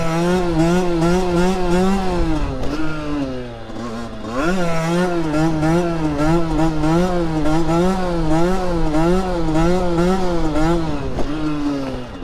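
A motorcycle engine holds a wheelie, loud and close, with a wavering, rhythmically rising and falling drone, a brief dip and sharp rev partway through.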